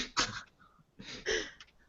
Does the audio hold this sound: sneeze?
yes